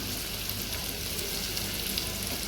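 A spoonful of masala spice sizzles in a hot frying pan while fish is cooked like mutton, a continuous close hissing crackle with faint scraping, no voices.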